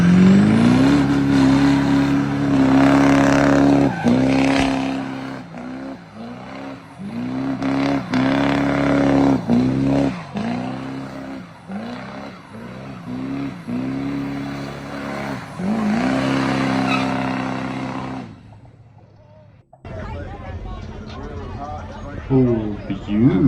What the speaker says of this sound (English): Turbo diesel truck.